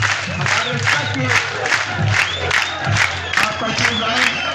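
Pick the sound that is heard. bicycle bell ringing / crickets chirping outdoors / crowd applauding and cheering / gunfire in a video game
crowd applauding and cheering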